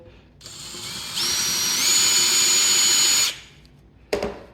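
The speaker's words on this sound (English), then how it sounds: "once you've got all 4 of your holes drilled" A power drill whines at high speed for about two seconds while drilling a hole in white oak, its pitch rising as it bites in, then stops; a short clatter follows.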